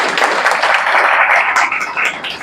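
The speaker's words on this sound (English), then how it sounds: "let's welcome them with a big round of applause" Audience applause welcoming successful SSB candidates, a dense wash of steady clapping from a crowd, loud and sustained for the whole stretch.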